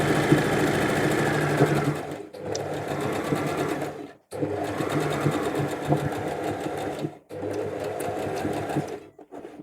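A sewing machine stitches in three bursts of fast, steady mechanical chatter, close and clear, each separated by a short pause.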